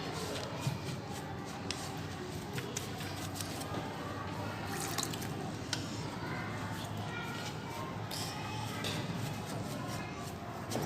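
Water drains and drips steadily from freshly formed handmade paper pulp on a mesh screen, a continuous soft trickling with scattered drips and squishy handling noises.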